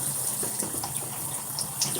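Shower water runs in a steady hissing spray, loud and close, with faint splashes breaking the even rush.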